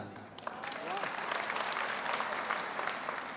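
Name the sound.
audience applauding at poetry recital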